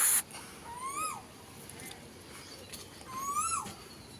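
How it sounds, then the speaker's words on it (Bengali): An Asian koel calls twice from a tree outdoors, each rising whistled note sliding up then dropping, spaced a few seconds apart over quiet background hiss. "গাছে কোকিল ডাকছে"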